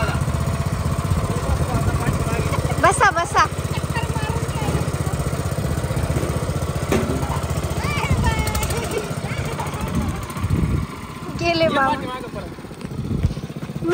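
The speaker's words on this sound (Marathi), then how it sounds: "तर आता आपण ट्रॅक्टर चालू केलेला आहे." A new Eicher tractor engine running steadily with a constant low chugging rumble from nearby, while a few people speak briefly over it.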